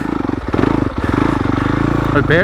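A stock Yamaha YZ250FX dirt bike chugs up a climb in first gear on barely any throttle, its low, even engine pulse loud and close throughout.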